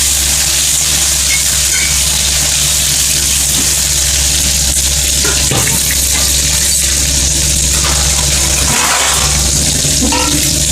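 Onion, tomato and green chili sauté in hot oil in a pan for a fish curry, giving a steady, fairly loud sizzle and hiss that runs throughout with a few faint stirring knocks and no talking.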